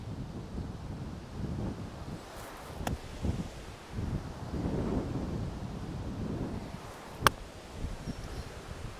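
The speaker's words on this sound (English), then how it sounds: "what you've just witnessed there is, well, just how windy it is" Strong wind on a golf course buffets the microphone in uneven rumbling gusts, with a couple of sharp knocks and no talking.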